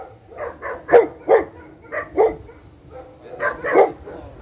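Several dogs bark in a loose rhythm of sharp, repeated woofs, moderately near, with a short pause midway.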